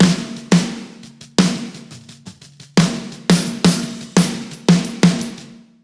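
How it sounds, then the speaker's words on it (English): Big, roomy snare drum from a rock mix, four microphone channels blended together including two triggers and a bottom mic, struck alone in a loose pattern of about nine loud hits with long ringing decays. "So pretty big, roomy sounding snare drum."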